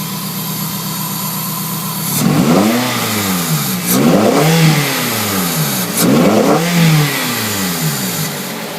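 A 2003 Toyota Celica GT with short ram air intake and aftermarket exhaust idles with a deep, throaty exhaust note, then revs up sharply three times, each rise and fall clearly audible and loud.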